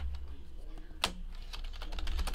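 Quick typing on a computer keyboard, a short run of soft, close clicks with one sharper tap partway through, fairly quiet in a room.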